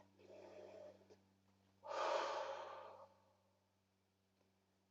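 Two breaths during a yoga session, a soft inhale followed by a louder, longer airy breath, close and alone over a faint steady hum.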